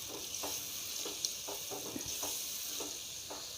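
Chicken karahi with milk standing in for cream simmers in a pan, giving a steady soft sizzle and bubbling with faint stirring scrapes at irregular intervals, no voices present.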